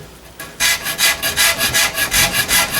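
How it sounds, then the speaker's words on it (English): Rasp made of hacksaw blades riveted together cutting wood, about a dozen quick rhythmic rasping strokes, loud and close, following a brief quiet start. "it's basically nothing but hacksaw blades that have been riveted together, and makes a really nice fast cutting blade"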